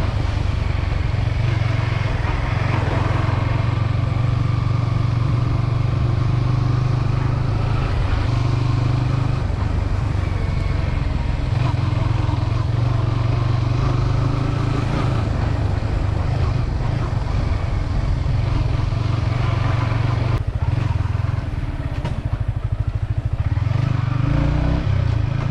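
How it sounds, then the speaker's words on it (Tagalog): A Yamaha XSR 155 motorcycle riding off road, its engine droning steadily and loudly throughout with constant low rumble and wind buffeting the microphone. "ito pala yung una nating motovlog na nakasakay na sa motor"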